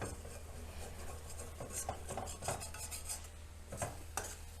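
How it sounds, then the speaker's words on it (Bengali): Masala spice paste stirred and fried for paneer masala in a pan over a gas flame, a steady bed of sizzle with repeated metallic spoon scrapes and clinks against the pan, close and fairly even. "মশলাটা আমি ভালো করে কষিয়ে নিচ্ছি"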